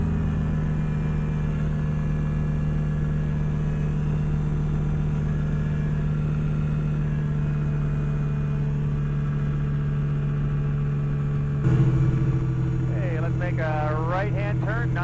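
A light aircraft engine drones steadily at reduced power, about 5,500 RPM, as a loud, constant hum in the cabin. Near the end the pitch shifts slightly and a voice talks over it.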